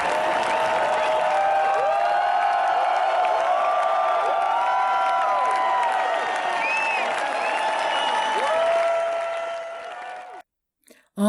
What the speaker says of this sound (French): Thébault et Wendels, victorieux, ont été chaleureusement applaudis par les dizaines de soutiens qui avaient fait le déplacement